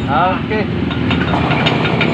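A Yamaha Mio Gear scooter engine starting after a starter switch repair, a brief cranking whir followed by a steady close idle, with someone talking over it.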